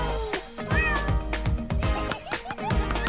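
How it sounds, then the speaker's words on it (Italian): A kitten meows in short, high, rising cries repeated several times, close and clear over thumping background music in a cartoon-style scene. "Il tuo primissimo gattino!"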